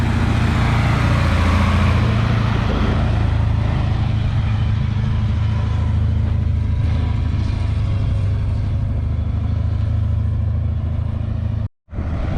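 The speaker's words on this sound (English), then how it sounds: "That was 3 passes with that water truck." A water truck passes on a dirt race track during track prep, its engine a steady, loud low drone that slowly fades before cutting off abruptly near the end.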